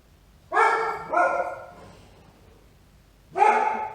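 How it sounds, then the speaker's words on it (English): Dog barks close by in a home: a short burst of two quick barks, a pause, then one more loud bark, with no talking. "Pardon the dog."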